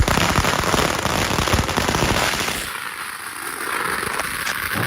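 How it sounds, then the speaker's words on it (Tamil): Firecrackers crackle in a dense, rapid string of bursts at a wedding, loud and close, then thin to scattered pops over a lingering hiss. "வெடி வெடித்தான் சாப்பிட ஆரம்பிச்சிட்டாங்க."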